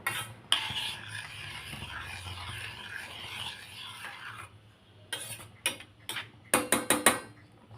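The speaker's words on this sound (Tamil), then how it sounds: "இப்போ நம்ம வறுத்து வச்சுருக்கோம் பாருங்கள் ரவையும் தேங்காவும் அது போட்டுக்கலாம் ஸ்டவ் கொஞ்சம் ஸ்லோவாக வச்சே கிளருங்க" A spoon scraping and stirring roasted semolina and coconut in a pan over a low flame for sweet rava kolukattai, with a soft continuous scrape followed by a run of sharp metallic clinks.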